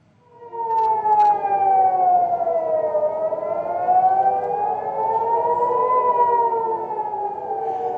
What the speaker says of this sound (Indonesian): sirene di kota Tel Aviv kembali berbunyi